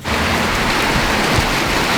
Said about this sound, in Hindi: ज़ोरदार बारिश चालू हो गई